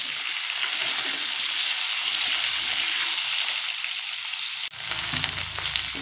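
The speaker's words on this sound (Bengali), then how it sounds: "লাল আলু, সাদা আলু আর ডাঁটা, দিয়ে 1 থেকে 2 মিনিট মতো মিডিয়াম ফ্লেমে ভেজে নেব।" Red and white potatoes with vegetable stalks fry over medium flame for sukto, a loud, even sizzle in oil that holds throughout, briefly dips near the end, then resumes, with no voices.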